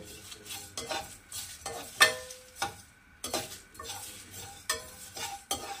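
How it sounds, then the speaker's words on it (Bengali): Whole spices, including large and small cardamom, are dry roasted in a pan with a rapid series of close scraping and rattling stirs, the spatula clinking against the metal in an uneven rhythm, with no talking. "দিয়ে এটাকে আমি একদম ড্রাই রোস্ট করে নেব।"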